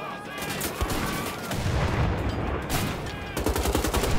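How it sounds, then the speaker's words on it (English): Video game gunfire and grenade blasts in Wolfenstein: The Old Blood, dense rapid shots and bursts layered with explosions, loud and continuous across the whole stretch. "We'll throw some grenades."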